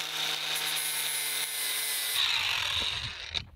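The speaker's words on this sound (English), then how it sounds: "Here what I'm doing is just removing the galvanized coat." Galvanized coating is being stripped from a steel piece for an outdoor metal structure on a house build, a steady, close, abrasive power-tool grind that shifts pitch partway through and then tails off.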